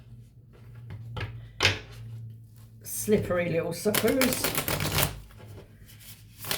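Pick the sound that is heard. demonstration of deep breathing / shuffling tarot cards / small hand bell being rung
shuffling tarot cards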